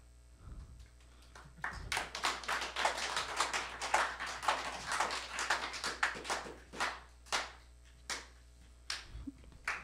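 A small audience applauding in answer to a poll question, with quiet taps at first, then a burst of clapping that tapers into scattered, isolated claps.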